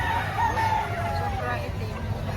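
A four-year-old Black McRae rooster crows amid a busy chicken market in Lipa, Batangas, its call rising over steady crowd babble and background clucking.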